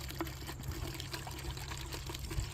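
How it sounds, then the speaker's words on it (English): Hydrogen peroxide being poured into a container for soaking garlic, a faint soft trickle and splash of liquid running steadily for a couple of seconds, quiet and close with no talking. "pour the hydrogen peroxide in there"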